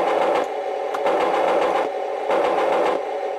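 A Heng Long Tiger I RC tank's sound unit plays through upgraded aftermarket speakers, producing a buzzy, whirring engine loop with a pulsing rhythm, close and fairly loud.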